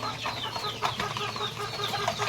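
Chickens cluck busily while being fed, a dense close flock of short, overlapping clucks over a low background hum.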